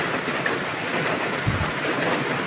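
Heavy rain pours down in the countryside, a dense, constant roaring wash with no pauses and a couple of faint thuds within it.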